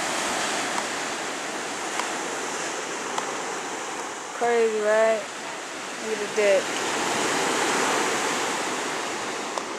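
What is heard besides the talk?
ocean waves at the beach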